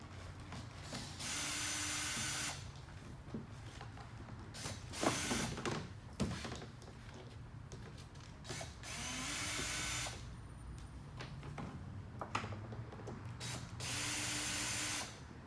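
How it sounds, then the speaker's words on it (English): Screws being backed out of the transducer mounting plate on a Hobie PA 14 kayak with a power drill, in several separate bursts of steady whirring, each a couple of seconds long, with clicks and handling noise between them, close and fairly loud. "We'll go ahead and remove these screws."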